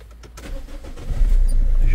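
A Renault Scenic 2 with the 1.5 dCi diesel engine cranks and catches about midway, settling into a steady low idle rumble close by, with a faint voice in the background.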